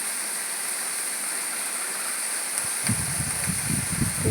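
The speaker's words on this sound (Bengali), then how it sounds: "আমাদের এইখানে আজ প্রচণ্ড বৃষ্টি হচ্ছে" Heavy rain falls outdoors beside a filling pond, a constant close wash of noise, with a few low knocks and thuds joining in near the end.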